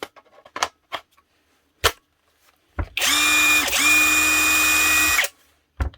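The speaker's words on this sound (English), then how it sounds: "The AliExpress copy Milwaukee 1/2 inch impact gun, or nut gun." A knockoff Milwaukee-style 1/2 inch cordless impact wrench from AliExpress, freshly reassembled, runs in one loud continuous burst of about two and a half seconds with a brief dip midway, after a few scattered clicks and handling knocks.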